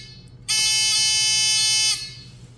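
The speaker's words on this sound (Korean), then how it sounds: "위아래로 부저를 물리고" A buzzer wired to a 110 punch-down block sounds one steady, loud electric drone for about a second and a half, then cuts off, with no talk over it.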